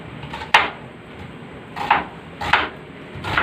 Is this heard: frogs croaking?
no